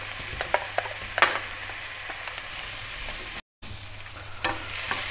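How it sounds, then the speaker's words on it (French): Onion sautéing in a hot frying pan for pork bokkeum (jeyuk bokkeum): a close, continuous sizzle broken by scattered stirring scrapes and clicks, with a brief dropout near the end and no speech. "je vais faire sauter l'oignon d'abord dans une poêle"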